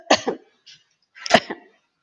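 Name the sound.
cough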